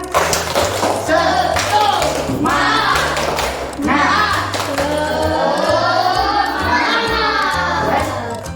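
A school class claps a rhythmic spirit cheer together, with bursts of sharp hand claps falling in a set pattern. Children's voices chant along over the claps, and the whole cheer is loud and close.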